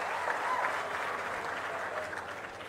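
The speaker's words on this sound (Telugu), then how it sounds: "గట్టిగా చప్పట్లు కూడా అభినందించండి" Crowd at an outdoor political public meeting applauding, a dense, continuous wash of clapping heard from a distance, moderately loud and even throughout.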